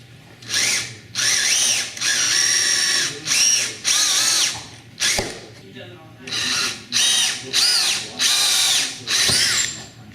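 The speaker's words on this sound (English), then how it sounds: "just go ahead and keep drilling straight through" A cordless drill whirs in a series of repeated bursts while drilling through holes during gearbox installation, each rising in pitch then stopping, with short pauses between, loud and close.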